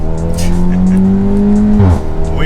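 An Audi S3 on H&R lowering springs drives under steady engine load, a loud, continuous drone with a tone that holds steady, then briefly drops and shifts as it changes pace.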